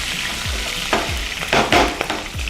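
Curry leaves crackle and sizzle in hot oil over a low flame for coconut rice, with sharp spitting bursts and low thuds of stirring against the pan, close and steady with no talking.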